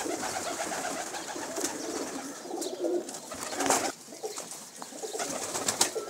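Loft pigeons coo softly and repeatedly at close range, their low rolling calls overlapping, with faint rustling in between.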